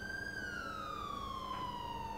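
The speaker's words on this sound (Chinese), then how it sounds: "怎么你的车上的警笛好像没有关掉这样的？" A police car siren in GTA5 wails with a long, steadily falling tone, loud and close over a low engine rumble, with no talking.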